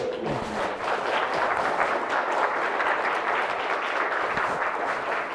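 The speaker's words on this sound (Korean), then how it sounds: "이강호 선배님께 큰 박수 한번 부탁드리겠습니다." Audience applause for a lecturer at the end of a talk at a Seoul National University forum: a dense, steady crowd clapping that sustains evenly throughout, with no voices over it.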